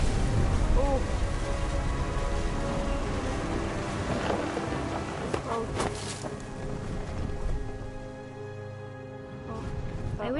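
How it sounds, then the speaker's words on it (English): Rain and rolling thunder in the video game What Remains of Edith Finch, a steady wash of rain with low rumbles and a sharp crack near the middle, fading quieter toward the end. "The thunder sounded much too close and full of angry power."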